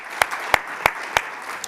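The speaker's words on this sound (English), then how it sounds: "Let's give him a round of applause." Applause from a small audience at a startup competition semifinal, welcoming a judge: a few crisp, evenly spaced claps rise over light crowd murmur, brief and close.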